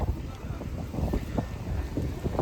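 Strong wind gusting outdoors in summer, a steady low rumbling buffet across the microphone with irregular surges, close and fairly loud throughout with no clear voices.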